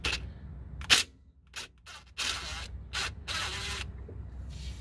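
A 14 mm wrench works a banjo bolt loose from the rear brake caliper of a Jeep ZJ with seized brakes, giving several sharp, close metallic clicks and short scraping bursts separated by brief pauses.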